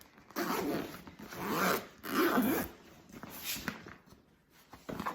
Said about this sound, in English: It's got a little zipper pocket in the front, I guess.